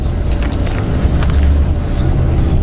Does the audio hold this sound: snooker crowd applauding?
no